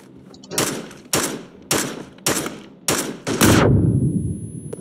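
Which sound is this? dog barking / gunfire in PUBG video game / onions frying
gunfire in PUBG video game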